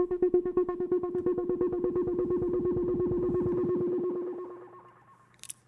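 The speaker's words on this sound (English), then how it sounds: "Roar is such a cool distortion from Ableton." Music run through Ableton's Roar distortion effect: a buzzy, gritty repeating tone pulses rapidly for about four seconds, then fades out, followed by a brief faint click.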